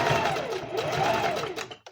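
A sewing machine runs briefly while stitching underwear fabric, giving a close, brisk whirring hum that rises and falls before stopping abruptly.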